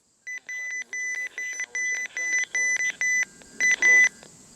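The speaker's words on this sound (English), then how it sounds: "I mean the button beeps, because they sound like a legit microwave on steroids." Button beeps of a RadioShack 12-259 radio sound like a loud microwave keypad, about a dozen short, shrill electronic tones pressed in an irregular quick series, with faint voices underneath.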